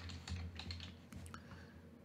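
Keystrokes on a computer keyboard while a place name is typed into a maps search box, a quick irregular run of light clicks with a steady low hum underneath, no voices.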